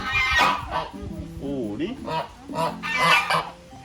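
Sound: ducks quacking

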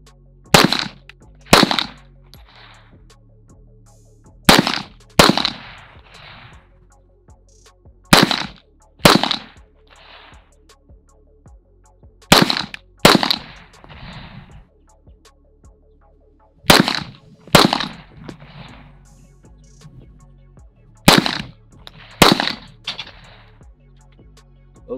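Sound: Canik TP9sfx pistol shots

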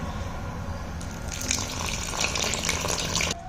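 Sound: water poured into flour dough while kneading

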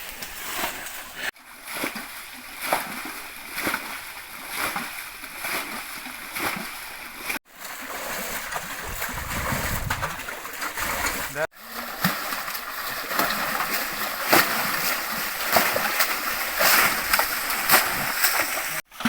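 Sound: bailing water out by hand

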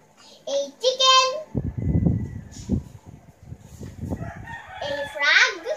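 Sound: chicken crowing

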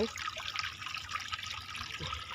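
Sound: water flowing in a forest

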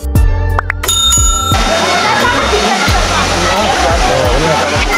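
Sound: waterfall at Alewa Dham

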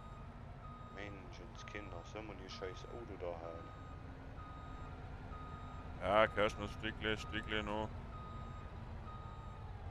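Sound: reversing beeps of a vehicle backing up

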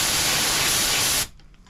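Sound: hydrographics activator spray gun spraying with its fan closed

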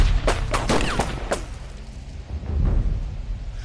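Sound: gunfire in a war drama

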